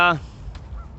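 A single short, loud honk from a duck or goose in a city park opens the moment, followed by faint rustling and a brief distant call.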